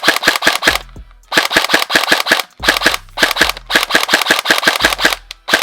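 An Emerbu PDX gel blaster with a high-speed trigger fires in rapid, loud, close bursts of several shots each, separated by brief pauses, with a sharp snappy crack on every round.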